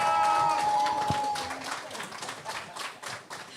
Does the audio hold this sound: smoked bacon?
no